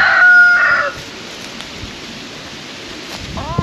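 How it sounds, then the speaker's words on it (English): A rooster crows loudly and close at the start, followed by quieter background noise and a few soft clucks from chickens near the coop near the end. "Where the chickens are."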